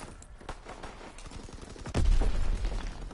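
Gunfire in a Call of Duty match comes as a quick run of sharp shots. A louder, booming burst lands near the two-second mark, with no talking.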